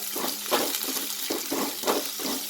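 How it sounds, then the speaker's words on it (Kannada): Long-sliced onions frying in hot oil, a steady bright hiss with rhythmic swells of bubbling and stirring about every half second, close and fairly loud with no voices. "ಎಣ್ಣೆ ಬಿಸಿ ಆಗಿದೆ. ಆನಿಯನ್ ಹಾಕ್ತಾಯಿದ್ದೀನಿ, ಈರುಳ್ಳಿ ಲಾಂಗ್ ಸ್ಲೈಸ್ ಮಾಡ್ಕೊಂಡಿದ್ದೀನಿ."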